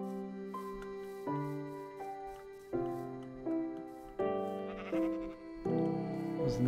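Repeated bleating from Minecraft sheep in the Direwolf20 modpack: about half a dozen sustained, stepped calls follow one another closely, fairly loud and near, with no talking.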